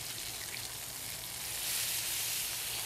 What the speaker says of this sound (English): take one of your spatulas and flip that bacon over